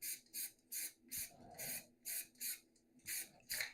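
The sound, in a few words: spray paint can spraying glasses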